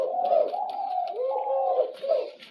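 Pet pigeons kept in an indoor setup coo close by in continuous rolling, throaty calls, one after another, with faint higher chirps between the calls and no talking.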